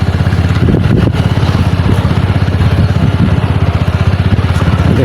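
A motorcycle engine drones loud and close with a steady pulsing beat while riding along a broken village road, with wind buffeting and jolts from the rough surface.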